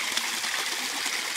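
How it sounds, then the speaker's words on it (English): A waterfall on a hiking trail pours steadily, giving a continuous, even rush of water with no voices over it. "This waterfall is so beautiful."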